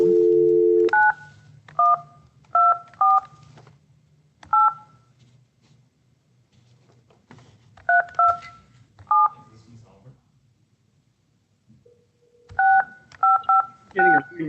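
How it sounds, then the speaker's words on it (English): Touch-tone telephone keypad dialing, with short paired-tone beeps coming in quick bursts across three separate dialing sequences and quiet stretches between them, plus a brief low tone at the start. "I have been having some trouble with this phone, of calls not dialing through. I get an initial dial tone."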